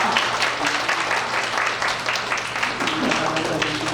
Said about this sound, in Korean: 박수로 축하하도록 하겠습니다.